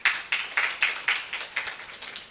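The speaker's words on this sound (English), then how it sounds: "Please clap for Niva" A live audience claps for a speaker at an aquaculture development event, in a short burst of several rhythmic waves of applause, fairly close and clear, with no talking.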